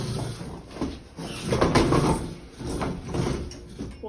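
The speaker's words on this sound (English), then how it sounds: "When your children are getting in and out of their chairs during the day, does it sound like this?" Classroom chairs scrape and grind across the floor as children shift in and out of them, giving loud, rough, repeated dragging sounds that swell and fade in several waves.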